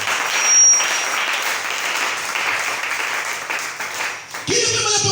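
A church congregation applauds in acclaim of the Lord, dense steady clapping across a room that fades briefly before a voice begins speaking at the end.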